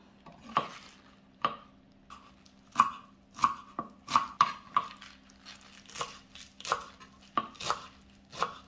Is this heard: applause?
no